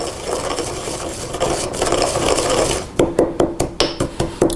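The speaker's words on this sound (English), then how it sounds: "I'm gonna grind up some more of this so that we have about 2 tablespoons of the peppercorns." Peppercorns ground up by hand while making a meat-and-cheese stuffed empanada filling, a steady close rasping crunch that turns into a series of distinct rhythmic grinding strokes near the end.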